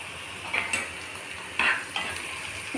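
A spoon scrapes and clinks against a pan while stirring a tempering of onions, curry leaves and asafoetida for gongura pachadi, giving a few separate metallic taps over a low frying hiss.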